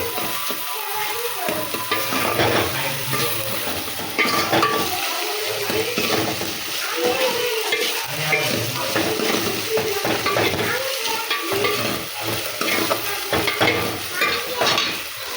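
Onions frying in a pan for dum aloo, stirred with a utensil: a continuous sizzle broken by frequent scraping and clinking strokes against the pan, close and fairly loud, with no talking.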